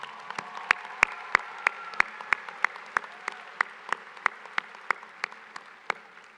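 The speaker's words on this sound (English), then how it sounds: "I think they deserve a big round of applause as well." Audience applause at a spring college commencement ceremony for graduates, a steady hall-wide clapping with sharp individual claps standing out in a regular rhythm, sustained and fairly loud throughout.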